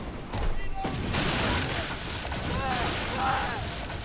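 Torpedo hits and explosions in a Skull and Bones naval battle, a dense, continuous roar of booming blasts and rumbling debris that swells and stays loud throughout, with a faint whistling tone drifting over it.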